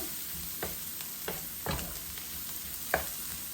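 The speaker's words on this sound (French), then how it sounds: "On fait saisir un petit peu, que ce soit doré, que ce soit bien cuit." Fish sears in a hot pan, low-level sizzling broken by a few short stirring scrapes and taps spread across the few seconds.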